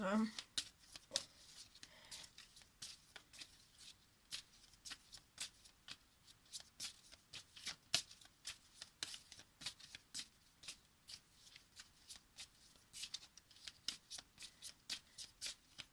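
Tarot cards being shuffled by hand: a fast, steady run of crisp riffling clicks and flutters that carries on, close and clear, through the whole stretch.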